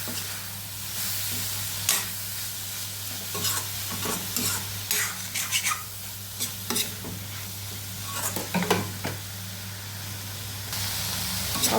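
Mixed vegetables sauté in a pan for a crunchy homemade snack, a steady close sizzle broken by repeated scraping and stirring strokes of a spatula against the pan, with no talk.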